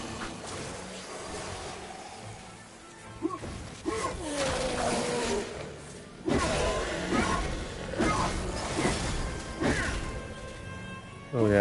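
Hammer blows smashing an enemy in the MediEvil video game: several heavy, crashing impacts at irregular intervals over busy game sound and music, some with a roaring edge.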